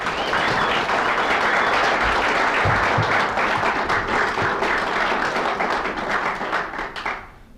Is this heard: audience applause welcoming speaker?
yes